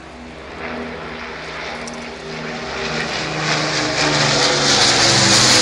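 A vintage 1945 Battle of Britain Memorial Flight propeller aircraft passes over York, its droning piston engine steady at first and then swelling louder as it approaches, heard alone with no voices.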